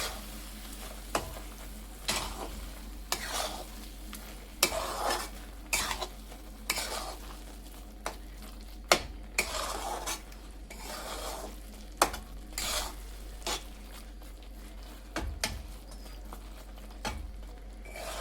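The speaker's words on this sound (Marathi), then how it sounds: "आणि चांगलं एकजीव करून घेऊया." Khoa being stirred into carrot halwa in a pan, with repeated scraping strokes of a spoon against the pan over a soft sizzle, close and fairly quiet, no talking.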